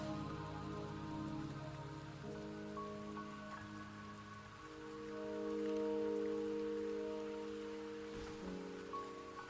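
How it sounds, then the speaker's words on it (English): Steady rain falls across the scene in the video game Wuthering Waves, a continuous wash of drops on surfaces with a low tonal music bed underneath; no voices. "Don't worry, the rain won't last much longer."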